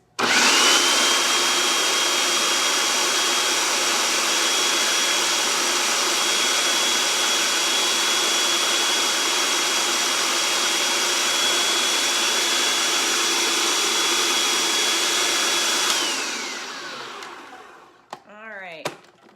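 A blender mixing pesto while oil is added runs loud and close with a steady high whine for about sixteen seconds, then winds down and stops, followed by faint clatter.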